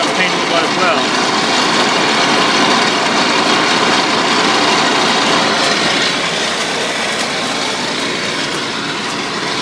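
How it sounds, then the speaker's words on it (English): An International Harvester Farmall Cub tractor idles loudly and steadily while its C3 belly mower is raised, a constant close engine drone with no clear break across the stretch. "I've got the mower lowered down, bringing the mower back up."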